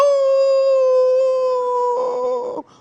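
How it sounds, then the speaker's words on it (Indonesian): A dog howls in a long, steady, drawn-out tone that holds for over two seconds before wavering and breaking off, loud and close, during the Islamic call to prayer. "terdengar suara anjing melolong."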